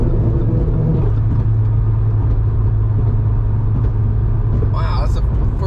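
An Audi S3 (8Y, MQB EVO) on a quarter-mile launch, its tires spinning on cold pavement: a loud, steady engine and road roar fills the clip, with a brief higher squeal near the end.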